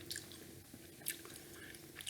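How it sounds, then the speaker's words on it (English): Gum being chewed up close for ASMR, soft wet squishing and smacking mouth sounds repeating steadily and quietly, with no talking. "gum chewing"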